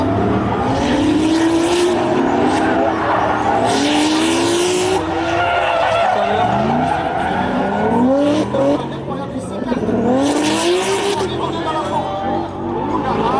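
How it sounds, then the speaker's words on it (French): Drift cars slide through transitions at a French drift championship round in Tours, with engines roaring loudly and tires squealing in repeated long skids, under a continuous crowd babble. "on voit que les véhicules dérapent au niveau de les transitions"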